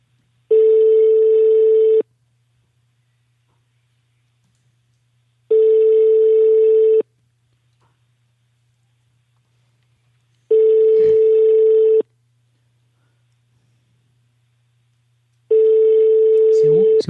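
A telephone ringing on an outgoing call: four evenly spaced ring tones, each about one and a half seconds long with long silent gaps between them, clear and loud over a faint low hum.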